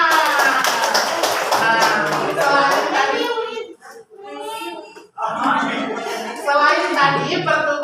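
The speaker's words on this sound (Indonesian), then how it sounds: "tepuk tangan." Classroom group clapping hands, a burst of loud claps at first, then children's voices and chatter, with more clapping and talk returning toward the end.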